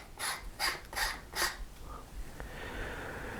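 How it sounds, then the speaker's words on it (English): Threaded part screwed onto a Maksutov telescope during collimation setup, giving four brief, evenly spaced scraping turns close by, then a faint click and quiet rustle. "I'm threading this and it screws on there much better"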